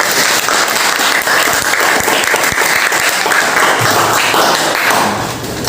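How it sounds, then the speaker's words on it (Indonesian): A class of students applauds together at the end of a group presentation in an Indonesian school lesson, a dense, steady wash of clapping with a few sharper thuds, sustained loudly throughout. "Beri tepuk tangan untuk kita semua."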